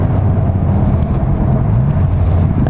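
A Honda CB 1000 R+ motorcycle pulls hard in fifth gear, its engine a loud, steady low drone with rising tone under heavy wind rush.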